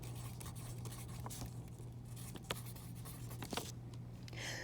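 A treble clef is written on a board during a music lesson: faint, close scratchy strokes and light taps over a quiet room with a low steady hum.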